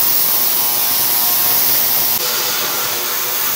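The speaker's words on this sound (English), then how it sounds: "Now I want to reset these and put the wrenches in there and then turn the machines" VEVOR and CREWORKS ultrasonic cleaners run with wrenches inside, giving a steady, loud hiss-like hum that fills the clip with no voices.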